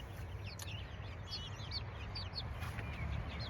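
Chickens raised on pasture, foraging where venison scraps lie under a salt block, give off scattered clucks and short chirps against a steady outdoor background, with no talking heard.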